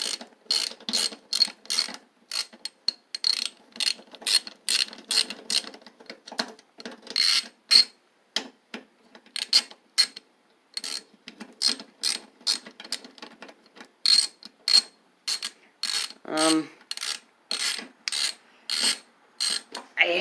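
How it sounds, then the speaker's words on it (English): A socket wrench ratchets steadily while removing the alternator from a Briggs & Stratton push mower engine, with rapid clicking bursts in a repeated back-and-forth rhythm, close and crisp, without talking. "Now I can put the socket on and take that alternator off."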